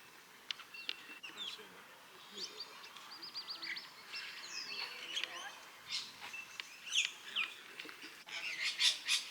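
Birds, parrots among them, call in a Melbourne park: scattered chirps, squawks and tweets at moderate distance, some rapid repeated notes, over a quiet hum of open-air background.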